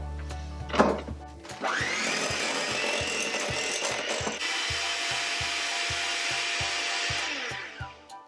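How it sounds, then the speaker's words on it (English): Electric mixer whirring loudly as it beats vanilla into shortbread batter, starting up after a clunk, running steadily for several seconds with a rhythmic rattle, then winding down. "Add in 1/2 teaspoon of vanilla and mix well."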